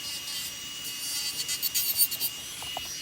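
An electric nail drill bit files gel nails, giving a steady high-pitched grinding hiss with a faint whine that surges in short bursts toward the middle and then settles.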